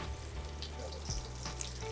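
Fish frying in a little hot oil in a frying pan: a continuous soft sizzle and crackle, moderately close, with a brief clink partway through.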